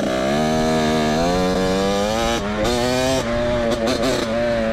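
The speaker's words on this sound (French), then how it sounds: "Un vélo avec un moteur." A small engine on a light motorized bicycle drones loudly and steadily close by, its pitch climbing and wavering as it revs, with no voices.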